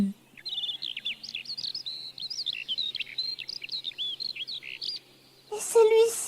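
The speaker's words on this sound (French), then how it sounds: "c'est un rossignol" A nightingale sings a quick run of bright, high chirps and trills over a quiet background, then a voice speaks briefly near the end.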